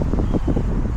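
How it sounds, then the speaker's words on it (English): Steady outdoor wind buffeting a microphone, a dense low rumble that holds at a constant level through a short stretch, with no voices. "The wind's picking up."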